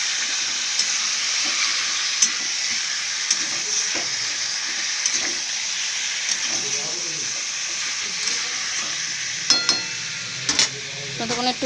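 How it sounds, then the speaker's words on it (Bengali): Chicken frying in goat fat in a wok gives a loud, continuous close-up sizzle and hiss, with occasional light taps and clinks of a utensil near the end. "ততক্ষণ একটু ভাজা হোক"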